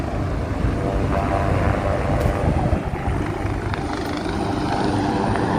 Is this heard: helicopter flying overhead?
yes